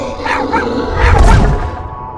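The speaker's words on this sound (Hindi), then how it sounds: "ये कुत्ता भी न जब से आया है भौंके जा रहा है" Dog barking in a cartoon, giving a short burst of loud, close yips and woofs over a noisy background.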